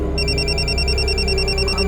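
A mobile phone ringing with an incoming call, a loud repeating electronic ringtone with steady tonal pulses close by in an indoor scene.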